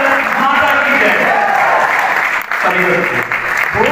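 An audience at the Atal Mahotsav event, held on Atal Bihari Vajpayee's birth anniversary, claps in loud, dense, sustained applause that fills the space, with a voice speaking through it.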